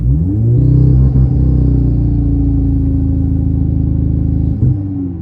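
A Volkswagen car with a DSG gearbox and turbo engine holds steady revs around 4,000 rpm, a loud, close, continuous droning rumble with a slight rise early on and no talk over it.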